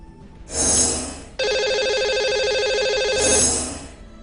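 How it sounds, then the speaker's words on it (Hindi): Telephone ringing for a live call-in show, a loud electronic ring tone sounding alone in a single sustained burst with softer swells at the start and end. "तो लगाते हैं इन्हें अब कॉल और करते हैं इनसे बात।"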